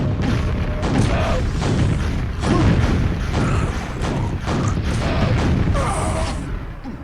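The rocket launcher from the Quake video game fires and explodes in a rapid series of heavy, compressed thumps and booms, about seven blasts in quick succession, loud and punchy.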